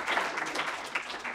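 An audience at an opening-remarks event applauds a named biology major, a steady wash of many hands clapping at moderate, fairly distant level for just over a second, with no voices.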